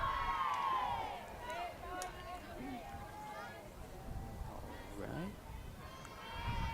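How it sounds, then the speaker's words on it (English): A varsity high school softball dugout cheering on a player, with overlapping girls' chants and shouts at a distance, somewhat faint, under a commentator's talk. "Looks like dugout's still cheering on Huffman"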